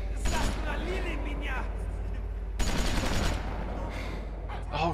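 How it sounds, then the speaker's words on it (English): Bursts of rapid gunfire in The Walking Dead: Season 2 video game crackle loudly in quick volleys over a deep rumble, with a voice talking excitedly underneath. "there's gunshots hitting the ground next to it!"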